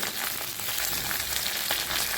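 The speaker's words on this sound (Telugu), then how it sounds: "ఇప్పుడు తాలింపు పెట్టుకుంటున్నాను తాలింపులో మిరపకాయలు ఆవాలు జీలకర్ర మెంతి" Loud, continuous sizzling of dried red chillies, mustard seeds, cumin, fenugreek and crushed garlic frying in hot oil, a dense crackling hiss with scattered sharp pops, close and without any talking.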